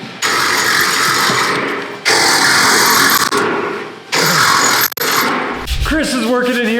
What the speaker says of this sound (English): He's been sanding all these little pieces.